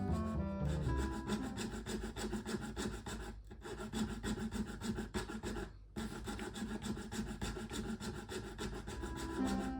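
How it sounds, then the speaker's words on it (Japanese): A thin-bladed hobby saw cuts through acrylic sheet in repeated rasping back-and-forth strokes, close and steady, broken by two brief pauses. "ノコギリで切っていきます。 まずはいつも使っているホビー用のノコギリ。"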